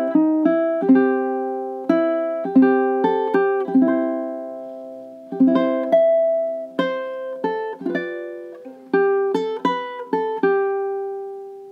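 A ukulele picks four bars of a song, with bright plucked notes and short chords in a bouncy steady rhythm, clear and close with no voice over it.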